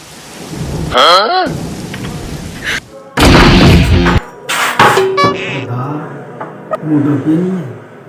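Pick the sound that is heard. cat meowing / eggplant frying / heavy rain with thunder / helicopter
heavy rain with thunder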